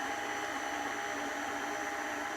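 An electric mixer beats cookie dough made with melted butter at low to medium speed. It gives a steady, close whirring drone that runs unchanged for the whole stretch, with no voices.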